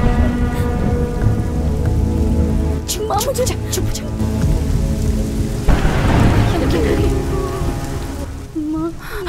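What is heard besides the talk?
heavy rain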